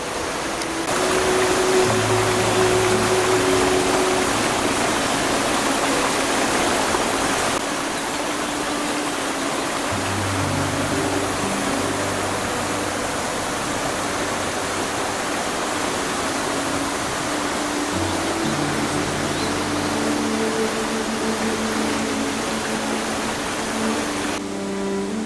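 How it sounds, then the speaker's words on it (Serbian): A waterfall on Stara planina mountain rushes as a continuous, broad hiss of falling water, steady and fairly close, with no voices over it. "Završnica do samog vodopada."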